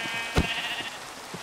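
Sheep in the Minecraft modpack SevTech Ages gives a single short, close bleat with a few faint game sounds around it.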